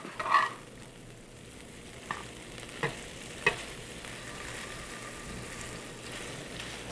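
Bacon frying in a pan for Texas green beans, a quiet steady sizzle with a few soft scraping clicks as it is stirred, faint and without talk.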